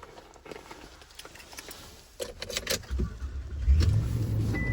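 2020 Toyota Tundra TRD Pro pickup being started, with a brief interior click and rustle, then the engine turning over and settling into a steady, close rumbling idle.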